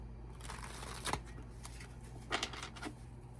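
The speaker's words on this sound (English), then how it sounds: "shuffle the cards" Tarot cards shuffled close up, a soft continuous riffle with a few louder flicks and snaps, no voices.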